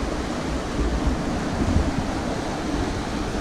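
River water rushing over rocks beside a trail in Buena Vista, Colorado, heard close at the water's edge as a steady, dense broadband roar with no breaks throughout.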